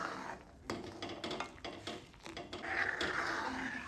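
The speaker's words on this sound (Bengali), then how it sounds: "এইভাবে অনবরত নাড়াচাড়া করে দুধটাকে একটু গাঢ় করে নেব" Milk thickens in a pot on the stove while being stirred continuously for misti doi, giving a steady scraping, sloshing swirl with soft clinks of utensil on metal and no talking.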